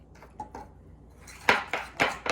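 A utensil clinks and scrapes against a bowl while vanilla is stirred in for cinnamon roll icing, soft taps first, then several louder, sharper strikes close by.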